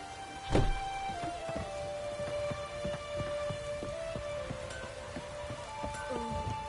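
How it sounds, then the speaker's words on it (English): Steady rain in the video game The Witcher 3: Wild Hunt patters on a surface with scattered drips, a soft continuous hiss and a faint sustained tone running underneath. "Rain's back again."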